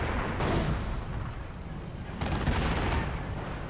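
Mortar strikes on an anti-tank gun in a World War II strategy game: dense rolling booms and crackling impacts, including a sharper burst partway through, over continuous battle noise with some soft talk underneath.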